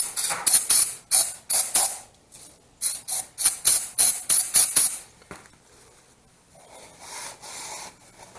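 Brake cleaner is sprayed in short hissing bursts while cleaning out a trailer hub for wheel-bearing replacement, about a dozen quick, sharp sprays in two rapid clusters, then a softer hiss near the end.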